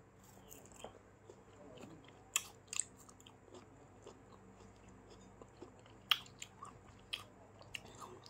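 Someone bites and chews a ripe yellow Kaew Khamin mango, with faint close crunchy bites and wet chewing sounds scattered irregularly over a quiet background.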